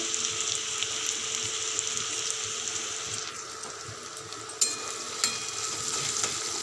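Garlic fries in a pan for a bhola fish curry, a steady close sizzle running throughout with a few sharp clinks of a utensil near the end.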